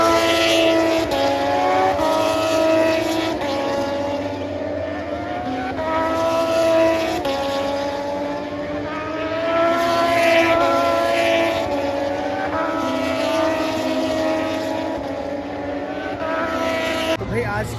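MotoGP racing motorcycles at MotoGP Bharat 2023 sweep past during a practice session, engines rising and falling in pitch as they approach and recede, a continuous loud track roar with repeated passes.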